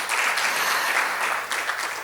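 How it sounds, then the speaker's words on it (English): Brief, full applause from a conference audience after a presentation on HIV prevention, dense clapping heard close and at an even level for a couple of seconds. "Can we give him another round of applause?"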